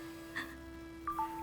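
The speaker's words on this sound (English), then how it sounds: "Her phone chimed." A phone in an anime gives a short chime, a quick high electronic tone that steps down in pitch. It is faint and sits over a steady low hum, and a small blip comes just before it.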